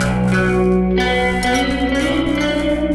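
A clean, sustained electric guitar drenched in reverb and echo, chords ringing and shimmering continuously with a wide, atmospheric wash and no voices.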